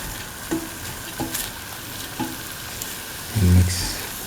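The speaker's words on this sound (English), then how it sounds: "Saute for 1 to 2 minutes" Egg and tomato sautéing in a pan for vermicelli pasta: a low steady sizzle with a few sharp stirring clicks of a spatula spaced out, then a louder scrape near the end.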